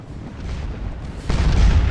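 Artillery fire in a Waterloo battle in Scourge of War, a low rumbling boom swelling louder partway through over a constant noisy battlefield din, with no talking.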